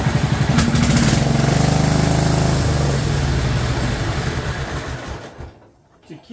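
An abandoned 2004 Murray lawn tractor with a 12.5 HP engine and 38-inch deck runs close by in a loud, steady drone that sags, then cuts out near the end, leaving near silence.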